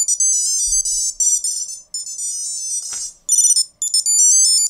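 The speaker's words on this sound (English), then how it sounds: "The beeper starts to play a melody." A BlindShell key finder beeper plays a bright electronic melody in short repeated phrases with brief gaps, loud and close, with a single soft thud partway through.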